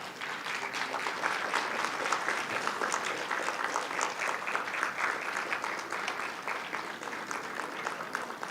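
Sustained applause from a conference audience at an Islamic economics and finance gathering, dense steady clapping for the full length with no pause and no talk over it.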